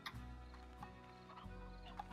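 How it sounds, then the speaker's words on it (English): Chickens clucking in the Slime Rancher video game, a few short, soft clucks and calls over a steady low hum of background game audio. "Oh, there's chickens here."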